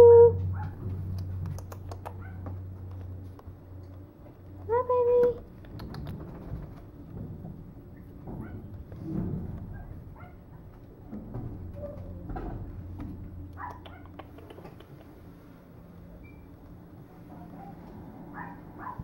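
A small Maltese puppy makes soft whimpers and brief high yelps across a quiet stretch, with faint rustling and movement nearby.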